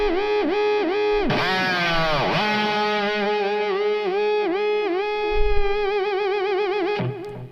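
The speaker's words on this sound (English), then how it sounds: "It's turning into a sort of an amp-related feedback." An electric guitar fitted with a Fernandes Sustainer holds a note that swells into amp-related feedback, a loud, distorted, wavering tone with pulsing vibrato and bending harmonics sustained for about seven seconds before cutting off.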